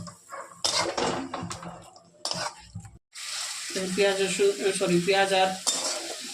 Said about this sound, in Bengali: একটু পেঁয়াজ বাটা দিয়ে দিচ্ছি, দিয়ে আর একটু কষিয়ে নেব।